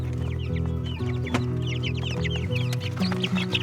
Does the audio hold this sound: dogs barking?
no